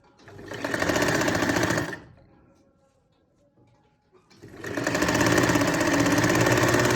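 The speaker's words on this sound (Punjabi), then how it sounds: "ਦੇਖੋ ਆਪਾਂ ਇਹ ਇਧਰਲੇ ਪਾਸੇ ਸਲਾਈ ਲਗਾ ਲੈਣੀ ਹੈ" A sewing machine runs two bursts of rapid, steady stitching along a seam on shirt fabric, loud and close, with a quiet pause in between and no speech.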